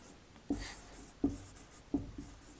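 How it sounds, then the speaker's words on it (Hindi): A sentence being written by hand, with three distinct scratchy strokes spaced roughly evenly apart, close and clear against a quiet background and no talking. "सेंटेंस को अगर मैं थोड़ा सा चेंज करता हूं और सेंटेंस को लिखता हूं, पूजा इज या आर"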